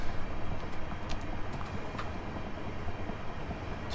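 A train in Train Simulator 2022 runs along the Chatham Mainline with a steady, dense rolling rumble and faint rail clicks. The sound stays loud and even throughout and carries no talking.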